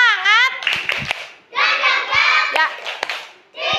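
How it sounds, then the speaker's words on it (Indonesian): Pupils in a classroom shout and chant through a short rhythmic spirit clap, sharp hand claps punctuating loud children's voices in quick patterned beats. "Tepuk semangat"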